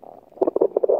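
A short, bubbly gurgle of a rumbling stomach, a quick burst of wet, low pulses lasting about a second, close and fairly soft.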